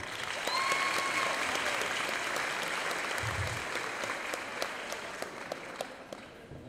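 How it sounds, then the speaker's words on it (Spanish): A crowd at a school graduation ceremony gives a sustained round of applause, a dense steady wash of clapping that slowly eases toward the end with a few distinct claps standing out. "Un fuerte aplauso."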